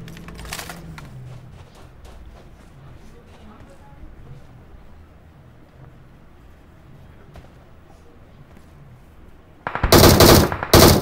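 Gunfire in the battle-royale shooter PUBG: a few scattered shots early, then a loud, dense automatic burst near the end, over quiet game ambience.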